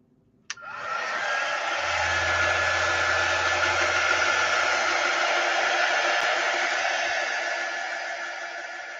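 Hair dryer blowing on a painted DIY sign, switched on with a click and then running as a steady, loud whooshing roar for several seconds before slightly tapering.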